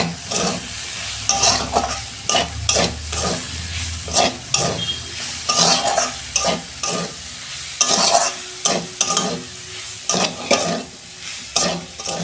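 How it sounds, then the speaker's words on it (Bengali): Spice masala with cumin powder frying and being stirred in a pan, with close, rhythmic scraping strokes repeating over a steady sizzle and no talking. "দু মিনিট আমি কষতে নেবো মশলাটাকে।"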